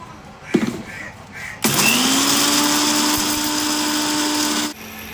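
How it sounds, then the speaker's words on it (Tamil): A mixer grinder with a large jar grinds roasted mandi spice mix into powder: after brief rattles and a short burst, the motor whirs loudly and steadily for about three seconds, then stops abruptly. "ஒரு மிக்ஸியில் பெரிய ஜாரில் போட்டு, உங்கள்கிட்ட சின்ன ஜாராக இருந்தாலும் கொஞ்சம் கொஞ்சமாக போட்டு அரைச்சிக்கலாம்."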